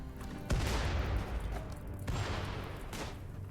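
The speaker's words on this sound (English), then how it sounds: "Oh, that's a frag grenade." Frag grenade explosions in RimWorld, a loud boom followed by a second and third blast with rumbling decay, fairly close and standing alone without talk.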